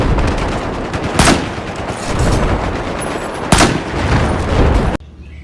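Gunfire from the video game Fortnite: two sharp, loud sniper-style shots roughly two seconds apart over a dense, noisy game soundscape, which cuts off abruptly near the end.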